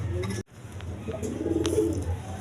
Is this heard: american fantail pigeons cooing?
yes